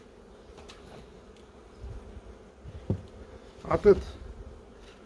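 Honeybees in a beehive colony give a faint low hum in the background, while a voice speaks briefly and a few louder handling bumps and knocks stand out near the end.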